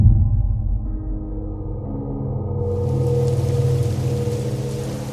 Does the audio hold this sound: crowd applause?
no